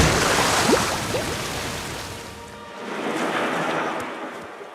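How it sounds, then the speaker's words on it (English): A really big cartoon waterfall pours with a continuous, loud rushing roar that eases slightly midway and then swells again. "Just really big waterfall."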